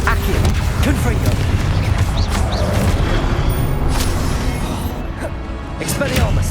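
Repeated Confringo blasting spells booming in Hogwarts Legacy, loud dense explosive bursts layered over continuous battle noise and shouted spell voices throughout.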